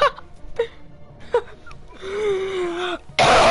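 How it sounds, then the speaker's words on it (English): A heavy coughing fit: a few sharp, close coughs, then a drawn-out wheezing, whimpering gasp, and finally a loud, harsh burst. "I think I just coughed up a lung."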